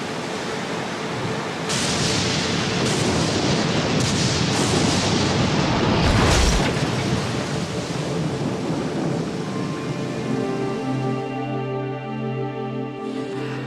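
A thunderstorm with heavy rain brings a broad wash of rain and rolling thunder that swells to a loud crash midway, then eases as sustained musical tones rise beneath it. No voices are heard.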